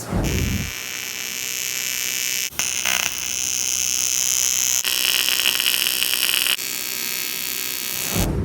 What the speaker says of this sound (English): what I'm doing is just putting some tack welds so then the mufflers can't have something to hold on to and don't blow off